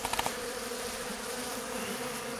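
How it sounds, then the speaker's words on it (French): Honeybee scouts buzzing around a swarm trap in early spring, a steady, faint, close hum of many wings with a few brief louder taps at the start. "les abeilles sont comme des folles, ça visite partout"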